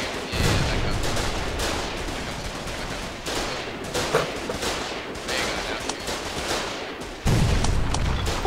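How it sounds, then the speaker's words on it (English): Sustained heavy machine gun fire in the Foxhole war game, a dense continuous rattle of rapid shots with louder bursts near the start and end, while players talk over it. "let the HMG shoot up that little."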